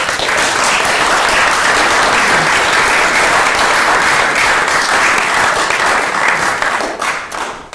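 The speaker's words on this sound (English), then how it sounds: "thank you for your applause" Dense, steady applause from an audience at a meeting fills the room at close range, many hands clapping continuously for several seconds before fading at the end.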